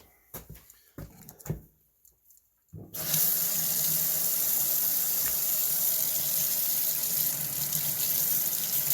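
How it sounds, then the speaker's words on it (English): A Matchbox Ford Corsair model car is rinsed under a sink tap: after a few seconds of faint clatter, steady loud running water gushes continuously for the rest of the clip. "looks like we are almost ready to wash it off in the sink"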